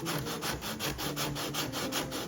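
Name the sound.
sanding a wooden guitar neck heel with 80 grit sandpaper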